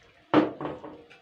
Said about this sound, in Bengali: মিক্সি ধোয়ার জলটা দিয়ে দিচ্ছি, আর একটু জল দিতে হবে